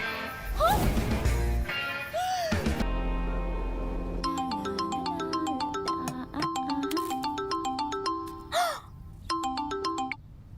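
A mobile phone ringtone plays a bright repeating melody through a Kannada comedy film scene, loud and steady for most of the stretch after some opening crashes and voices, with brief pauses between phrases.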